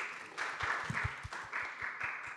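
Conference attendees at a tech summit applaud an incoming speaker, a steady wash of clapping with a rhythmic thump underneath, moderate in level and continuous across the whole stretch.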